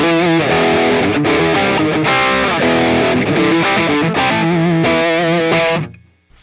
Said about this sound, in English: When we move the color up, we're getting into more distorted ranges.